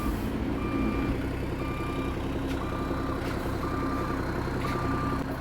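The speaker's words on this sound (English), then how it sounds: "Just showing you the bus leaving" A bus pulling away in Jamaica, bound for Montego Bay, sounds a steady run of evenly spaced electronic reversing beeps over a constant rumbling engine and outdoor traffic noise, with no talk.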